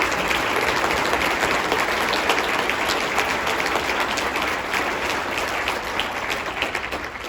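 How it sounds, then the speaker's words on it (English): Loud, dense applause from a large audience at a city address, honouring emergency services, a continuous wash of clapping that holds steady and only slightly thins toward the end. "I think we should give a huge round of applause for all of our emergency services."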